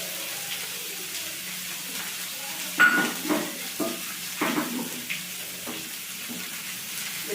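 Turmeric soaked in water with hot and Kashmiri chili powders frying in a pan, a soft low sizzle under several distinct spatula scrapes and knocks, quiet and close.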